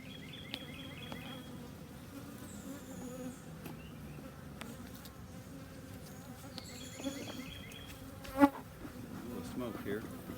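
Honey bees buzzing around a comb while it is being cut and smoked, a soft steady drone with individual bees passing close and a brief sharp knock near the end.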